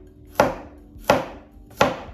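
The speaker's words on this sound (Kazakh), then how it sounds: "сәбізді турайын" Knife chopping a carrot on a cutting board for marinated cabbage with vegetables, three sharp, evenly spaced close chops with short decays, no speech.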